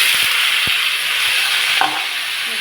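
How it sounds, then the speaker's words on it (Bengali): Chopped ivy gourd (kundri) frying with spices in a pan, a steady close sizzle with a few soft stirring knocks, alone with no talk. "মশলাগুলোর সাথে কুঁদলি একটু কষিয়ে নেবো।"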